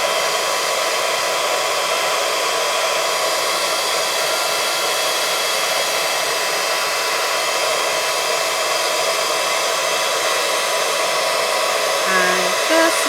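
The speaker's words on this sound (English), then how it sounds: "I'm just going to use my heat tool to do it" Handheld embossing heat tool blowing steadily to melt embossing powder on a journal page, a loud, constant whooshing hum that runs unbroken throughout, up close, with no talk.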